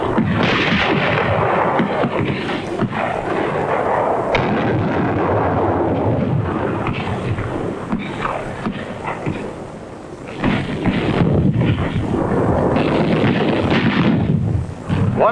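A continuous, loud WWII artillery barrage during the Marshall Islands campaign at Kwajalein: dense, overlapping booms and rumbling blasts that barely let up across the whole stretch.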